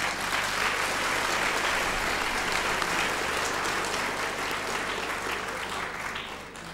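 An audience claps continuously at a Greek Orthodox sermon, a dense and steady wave of applause that holds at an even level throughout.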